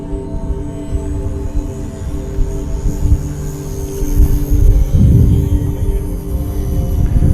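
A HobbyZone RC airplane flies outdoors in gusty wind, its propeller and small motor making a steady droning whine that swells louder toward the end, with wind noise underneath.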